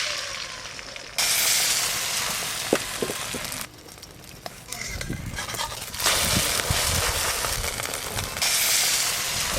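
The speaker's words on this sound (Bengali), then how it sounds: "একই রকম ভাবে সব ডিমগুলো ভেজে নেব।" Egg batter mixed with chopped onion, green chilli and salt is spooned into a hot pan and fries with a bright, steady sizzle that swells as each spoonful goes in, with light clinks from the pan between, and no talking.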